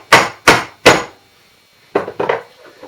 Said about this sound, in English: take your punch, put it right on top of the pin, and just kind of hammer it down